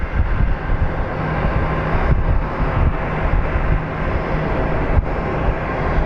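A US Airways airliner taxis toward a gate at Phoenix Sky Harbor International Airport, its jet engines a steady, loud low rumble that holds for the whole stretch with no voices.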